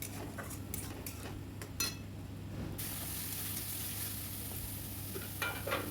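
Onions fry with a paste of green chilli, garlic, ginger and cumin, a faint sizzling hiss that swells partway through, with occasional light utensil clicks and no talking.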